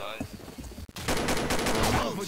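Gunfire in a first-person shooter game, heard as a rapid string of sharp, loud automatic shots after a brief quieter stretch with a short gap.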